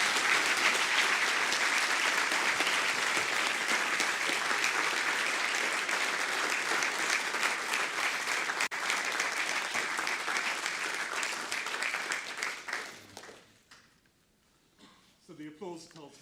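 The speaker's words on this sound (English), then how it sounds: "The applause tells me that you all agree with me" A lecture audience gives a long round of dense, steady applause that holds strong for about twelve seconds, then thins out and fades to scattered claps before a voice begins at the very end.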